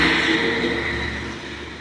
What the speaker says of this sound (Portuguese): Você escutou um caminhão passando?